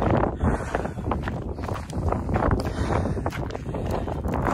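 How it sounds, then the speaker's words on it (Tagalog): Strong wind buffets the microphone in rough, rumbling gusts, with faint rustling and movement underneath. "Lakas ng hangin dito."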